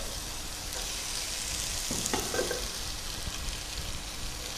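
Chilli powder sizzles in hot oil with a steady close hiss and a brief clatter of stirring partway through, with no speech.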